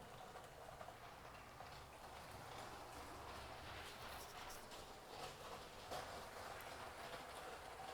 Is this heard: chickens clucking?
no